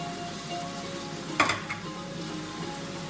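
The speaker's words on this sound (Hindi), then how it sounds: "ये अब 5 मिनट हो गए हैं इसे फ्राई करते हुए। अब हमने ये जो 4 सॉसेजेस गोल गोल काट के रखी हैं हम वो ऐड कर देंगे" Sliced round sausages frying in a pan of pasta sauce vegetables, a steady soft sizzle with one sharp clink of a utensil against the pan midway.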